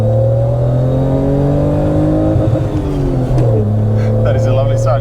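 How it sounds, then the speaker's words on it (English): A BMW M3 engine revving hard and bouncing off the rev limiter, a loud sustained roar heard up close with a brief stutter and dip midway before it climbs again. "She likes to rev and hit that limiter."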